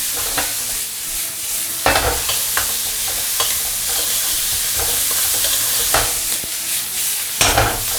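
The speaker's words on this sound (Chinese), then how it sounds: "蒜米、野山椒和泡椒、酸菜，给它炒香" Ginger, garlic, wild chilies, pickled peppers and sauerkraut stir-frying in hot oil, a steady loud sizzle broken by repeated scraping clatters of the spatula against the wok, with no talking.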